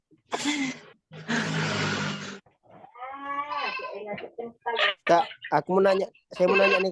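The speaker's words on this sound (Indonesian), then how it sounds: "Itu suara kambing siapa?" Loud, drawn-out goat bleats sound close by at the start, followed by people talking over a few more bleating cries.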